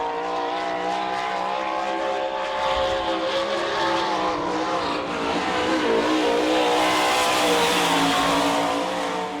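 Sprint cars of the All Star Circuit of Champions race around a dirt track at the Bauman Memorial in Sarver, Pennsylvania, their engines roaring loudly and continuously as the cars sweep past together, with no talk.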